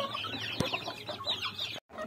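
Free-range village chickens cluck in a farm shed, several overlapping soft calls close by, with a brief sharp knock midway and a short silent gap near the end.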